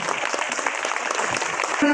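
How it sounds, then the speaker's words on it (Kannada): An audience at a Guruvandana felicitation ceremony applauds in congratulation. The clapping is dense and steady for the whole two seconds, with a faint voice near the end. "ತಾವೆಲ್ಲ ಒಂದು ಚಪ್ಪಾಳೆ ಮೂಲಕ ಅಭಿನಂದನೆಗಳನ್ನು ಕೊಡಬೇಕು ಅಂತ ನಾನು ಕೇಳ್ಕೊಳ್ತೇನೆ"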